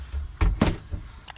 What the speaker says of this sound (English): Door shuts like a new one.